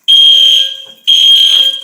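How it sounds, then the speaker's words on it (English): A fire alarm sounds inside a shelter in two loud, piercing, steady electronic tones at very close range, with a brief dip between them. "The fire alarm's going off."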